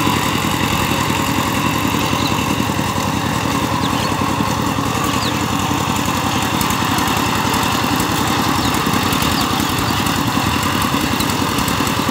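A Sifang 20 HP diesel power tiller with 18 blades runs continuously in a field, its engine a loud, close, rapid chugging drone with a slightly rough, uneven note that holds throughout.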